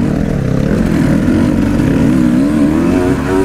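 An enduro motorcycle engine at a hare and hound enduro event drones loud and close, its pitch rising steadily as the rider revs and accelerates over a few seconds.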